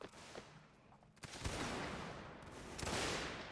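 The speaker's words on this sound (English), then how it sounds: "Sherman is shooting my poster because he can" Musket gunshots in a Mount & Blade line battle with the North & South mod: a distant, faint crackle of scattered shots that swells into a rolling volley, then a second wave, with no one speaking.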